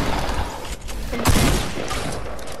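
Pump shotgun blast in a video game: one heavy, booming shot lands midway through, louder than the rough, busy background of other game noise and scattered gunfire around it.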